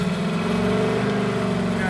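A car engine runs steadily at raised revs, loud and close, with a dense, continuous drone during a charging-system check on an old car with a weak battery.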